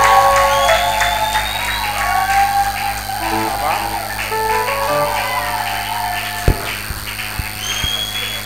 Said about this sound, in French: Acclamons comme il se doit.